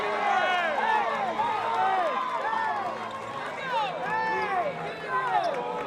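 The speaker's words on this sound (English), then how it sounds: "the crowd here, a very pro-West Virginia crowd, celebrating this victory in the most remarkable way" A pro-West Virginia crowd at a women's college basketball game against Duke celebrates a victory, a dense roar of many voices cheering and singing together at a steady level throughout.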